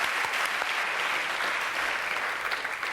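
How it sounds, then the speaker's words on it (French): A television studio audience claps in a continuous, even round of applause that fills the whole three seconds at steady strength. "Applaudissements, mesdames, messieurs"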